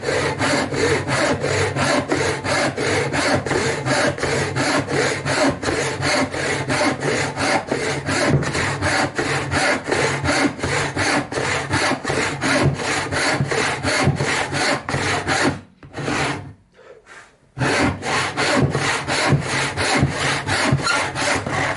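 A blunt block plane is pushed across wooden end grain in fast, steady rasping strokes, continuous and close, with a brief pause near the end before the strokes resume.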